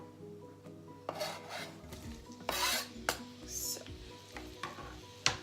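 Onions dropped into leftover oil in a pan after frying salmon for caramelized onion teriyaki salmon, giving moderate sizzling with scraping and stirring bursts, close up and fairly quiet, with a brief word spoken at the start.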